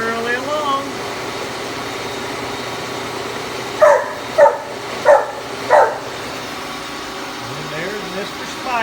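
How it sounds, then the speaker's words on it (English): A dog barks four times in a quick, evenly spaced run inside a machine workshop, loud and near over the steady hum of milling equipment. "Mr. Spike again just has to get his picture in the video for YouTube. Yes, you do, Mr. Spike. Yes, we hear you"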